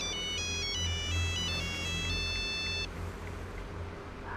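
An electronic phone ringtone plays a bright repeating melody for about three seconds, then stops, leaving low background hum.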